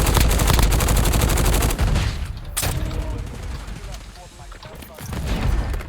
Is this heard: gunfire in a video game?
yes